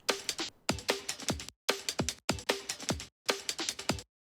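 A chopped, time-stretched Vengeance drum break sample plays in short rhythmic bursts of crisp kicks and snares, with abrupt cuts into silence between phrases, dry and close.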